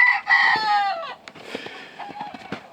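A White Crested Black Polish rooster crows loudly and close by in one long drawn-out call, followed by softer clucks and scattered farmyard noises from other chickens.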